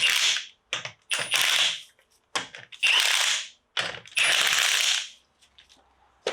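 Ratchet or impact gun tightening the wheel nuts on a Corsa D, loud close bursts of rapid clicking in irregular spurts separated by short pauses.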